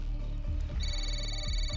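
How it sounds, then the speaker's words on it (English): An unfamiliar phone ringtone rings with a steady high electronic tone, heard in a quiet tent while camping alone at night; it enters partway through and repeats over a low, dark rumbling background. "It didn't even have the same ringtone."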